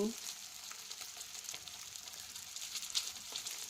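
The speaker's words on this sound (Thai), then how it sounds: "น้ำมันเขาเดือดเต็มที่แล้ว" Fish fries in a pan of shallow, fully heated oil over a strong flame, giving a steady crackling sizzle with small spattering pops, close and fairly quiet.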